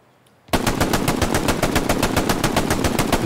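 Rapid automatic gunfire in a video game bursts in after a moment of quiet, a fast, evenly spaced stream of loud close shots continuing without pause.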